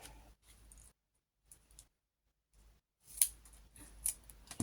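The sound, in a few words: scissors cutting double-sided tape in two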